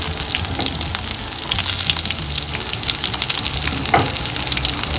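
Green chili and sliced shallots sauté in hot oil in a pan for chicken rasam, a loud, continuous sizzle and crackle filling the whole stretch with no pauses.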